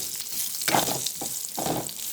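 Fried bitter gourd pieces are stirred into a hot, sizzling tempering with curry leaves, producing bursts of crackling sizzle and scraping with each stir, close and moderately loud.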